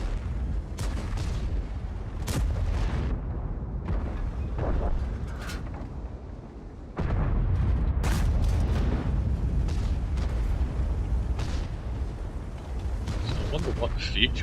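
Tank cannons fire in the World of Tanks video game as repeated sharp booms at irregular intervals. Someone talks steadily over the blasts.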